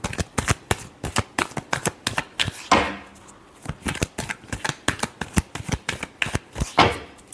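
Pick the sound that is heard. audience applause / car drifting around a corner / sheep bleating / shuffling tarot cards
shuffling tarot cards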